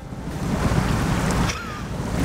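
Water washes and churns around a truck as it drives out into the sea in the SnowRunner video game, a steady, loud surf-like roar with wind-like hiss and no pauses.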